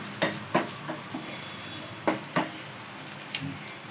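Onions sautéing in a pan for chilli chicken 65 gravy, a constant close sizzle punctuated by several soft spatula scrapes and taps at irregular intervals.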